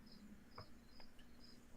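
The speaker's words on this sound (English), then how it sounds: "Those crickets sound amazing." Crickets chirp at night in a faint, steady chorus of quick repeating pulses, distant and unaccompanied by voices.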